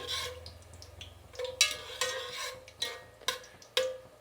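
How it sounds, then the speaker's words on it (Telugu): Whole garam masala spices fry in oil for biryani while a spoon stirs and scrapes the pan in several sharp, close strokes over a low sizzle. "ఎప్పుడు హోల్ గరం మసాలా వేసినా కానీ ఏ బిర్యానీకైనా కొంచెం వేగాలండి, అప్పుడే ఫ్లేవర్ బాగుంటుంది."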